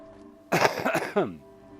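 A single harsh cough bursts out close to the mic, a short throaty rasp lasting under a second, with quiet room tone before and after.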